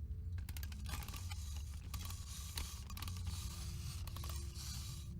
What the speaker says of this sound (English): And Lefty has some wind-up whirring.